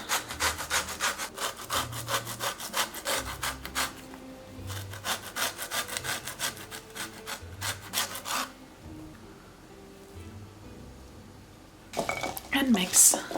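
Orange zested on a regular hand grater, quick bursts of rasping scrapes in rhythmic strokes with short pauses between, close and fairly loud, with faint kitchen clatter at the end.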